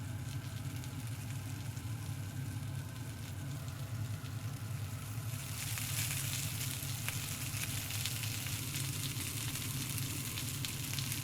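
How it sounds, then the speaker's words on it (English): A breaded chicken fillet fries in olive oil with a steady, close hiss and crackle that grows brighter and louder partway through, with no talking. "dip well in breadcrumbs. And fry it in olive oil."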